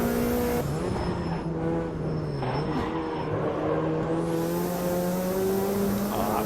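A race car engine in the Automobilista racing simulator drones loud and steady, its pitch climbing and dropping through gear changes, with tire noise layered underneath and no talk.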